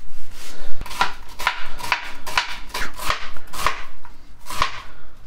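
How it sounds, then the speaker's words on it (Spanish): Onion being cut into small cubes with a knife on a board, a series of about nine crisp, evenly spaced chops, close and clear, with no talking. "Para el relleno vamos a cortar la cebolla a cuadraditos."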